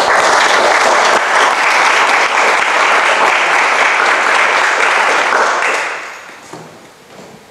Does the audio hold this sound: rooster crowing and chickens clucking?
no